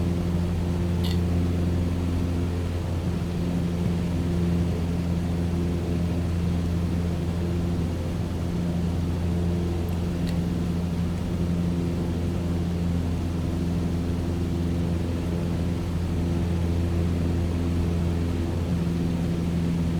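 Cessna 152 propeller aeroplane engine droning in a flight simulator, a constant steady hum with stable tones over Tenerife scenery, continuing unchanged throughout with no talk.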